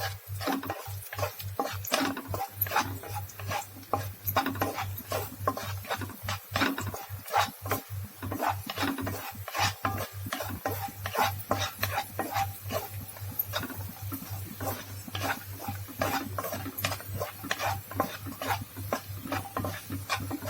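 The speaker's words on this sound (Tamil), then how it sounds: "இது நல்லா ஃப்ரை பண்ணிக்கலாங்க பொன்னிறமா வர வரைக்கும்" Bread pieces fry in a pan until golden while being stirred, steady rhythmic scraping and tapping of the utensil over a low continuous hum and soft sizzle.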